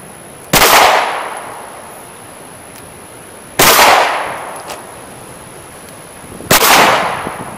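Three loud, sharp pistol shots from an HK VP9 fired at a shooting range, each a sudden crack with a short decaying tail, spaced about three seconds apart, with no talking.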